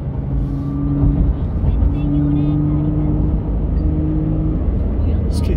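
A Nissan GT-R Nismo cruising through Tokyo at night gives a steady, droning engine hum with a few swells, while someone talks over it.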